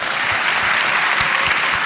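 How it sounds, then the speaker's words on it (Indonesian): Steady applause from a mall audience at an event launch, dense continuous clapping at close range that fills the moment with no talk over it. "Tepuk tangannya dong."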